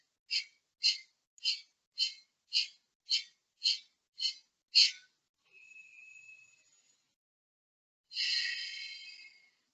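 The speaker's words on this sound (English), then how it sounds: "Then again Surya Kapalabhati. Close your left nostril, then do the exhalation." Nine sharp, rhythmic forceful exhalations through one nostril in Kapalabhati yoga breathing, evenly spaced and close, followed by a faint thin whistly breath and then a longer, louder breathy exhale.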